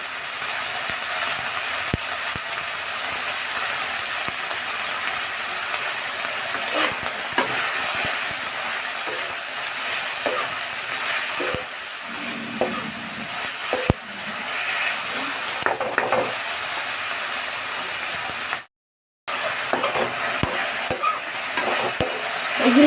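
Chicken for dry chilli chicken sizzles steadily in a pan while being stirred, with irregular scraping and clinking of the utensil; the frying runs continuously for most of the stretch, broken by one brief silent gap near the end.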